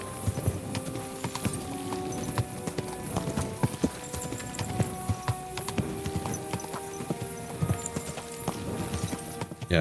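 Hooves clip-clop steadily and continuously in the video game Kingdom Come: Deliverance 2, mixed with layered tones and clatter, fairly loud and close throughout.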